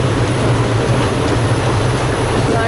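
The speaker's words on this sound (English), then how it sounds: "I'm already 16 hours on a train trip" Steady, loud rumble and rattling hum fill a crowded passenger train carriage in India at night, continuous and unbroken with no voices.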